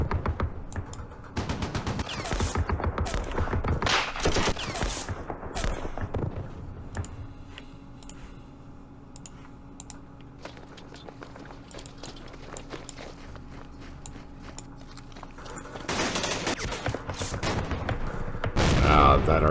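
Direct-fire shelling in the wargame Campaign Series Middle East during the Battle of Jerusalem, with dense bursts of gunfire and blasts at the start and end and a quieter rumbling stretch between.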